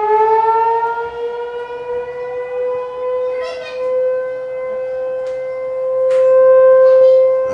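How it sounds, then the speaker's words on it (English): A civil defense siren sounds during a scheduled tornado warning test, a steady rising wail from a moderate distance that slowly swells in loudness, with faint background noise and no speech. "That's the alarm going off."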